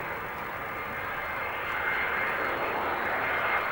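Aircraft flying past at the 1992 Farnborough Air Show, exhaust blown over the wing for low-speed flight: a steady, loud engine roar with a broad rushing tone that swells slightly as it passes.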